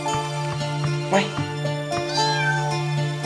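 A cat meows a few times in a video game, short rising cries over steady game music with no talking.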